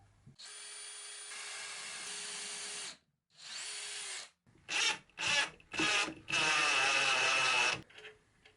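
Power drill driving screws into thin plywood while fitting small angle brackets to a chair seat: a long steady whir, a shorter second run, then several quick bursts ending in a sustained drive, close and loud.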